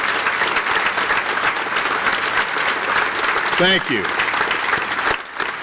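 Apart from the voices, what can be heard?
audience round of applause for NASCO employees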